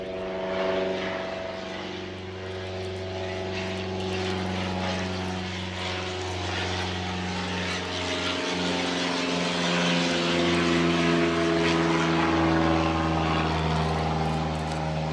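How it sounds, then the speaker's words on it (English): Propeller airplanes drone overhead near a fishing spot, a loud, sustained engine hum that swells and shifts in pitch as they pass, with no talk. "the planes are relentless today. They will not leave us alone"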